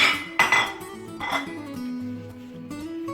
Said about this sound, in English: I will add the roasted coconut. And keep on mixing it.